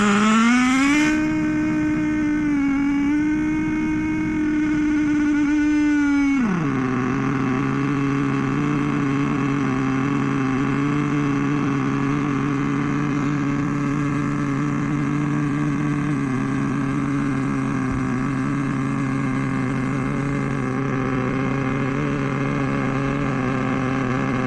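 HPI Savage 21 nitro RC car engine running a break-in heat cycle with the wheels off the ground, giving a steady, high, buzzing whine that drops in pitch partway through and then holds a constant drone.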